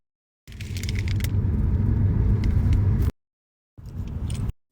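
Steady rumble of a car's interior while driving on a journey, a close, even road and engine drone that cuts off abruptly, then returns briefly after a short silence.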